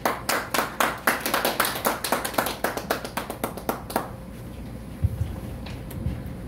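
Audience clapping to welcome a speaker at a Korean history lecture, a rhythmic unison beat of sharp claps for about four seconds, then it stops and leaves faint room noise with a couple of soft knocks.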